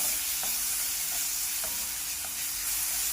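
Green chillies sauté in hot oil for batata vada. A steady, close frying hiss runs throughout, with a few faint stirring taps.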